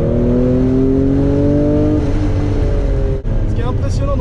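A car engine pulls hard in third gear at around 200 km/h, its tone climbing steadily before a brief gap at the next shift, heard from inside the cabin while people talk.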